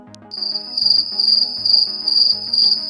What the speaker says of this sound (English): Nothing but crickets, huh?